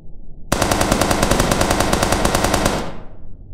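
A rapid burst of automatic gunfire starts abruptly after a short silence and fires a fast, evenly spaced stream of loud shots for over two seconds. It then stops and the sound trails off in a short echo.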